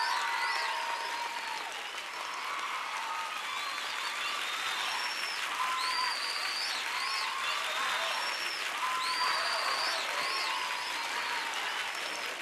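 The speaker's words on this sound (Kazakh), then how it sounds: "Қошамет көрсетеміз" A crowd breaks into sustained applause after a children's dance performance, an even wash of clapping held for several seconds with faint voices and whistling over it.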